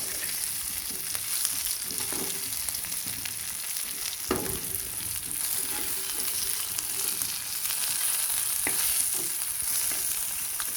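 Thela fish frying in oil in a pan, a steady close sizzle with occasional crackles and scraping stirs, continuous for about ten seconds without talk.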